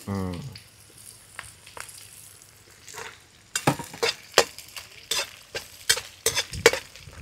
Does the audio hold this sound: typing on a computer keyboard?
no